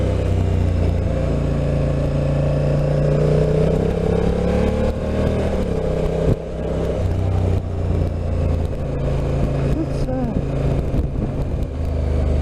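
A Honda NT1100 touring motorcycle engine drops from fourth to second gear, its steady drone rising and falling in pitch with a brief dip mid-shift and continuous wind rush, heard loud and close from the rider's position.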